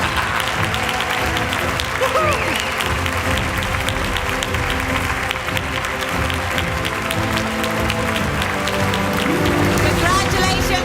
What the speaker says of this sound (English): So let's keep the applause up